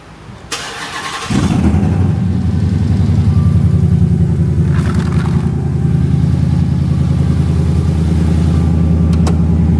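A Dodge Hellcat's engine cranks and catches with a sharp roar, then settles into a loud, steady, deep idle rumble close by, with no talk over it.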